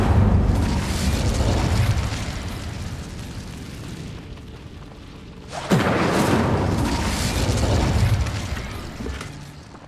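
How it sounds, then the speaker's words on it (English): Incendio fire spell cast in the video game Hogwarts Legacy, heard as a loud sustained fiery roar that dips, then a sharp burst at mid-clip followed by another broad, rumbling blaze that fades out. "Incendio."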